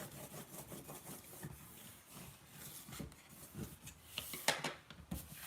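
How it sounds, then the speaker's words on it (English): A spatula burnishes purple card down onto a cutting mat, making faint, close scraping and rubbing strokes in an uneven rhythm with a few sharper taps, quiet and with no talk. "using the spatula I'm just going to burnish it down"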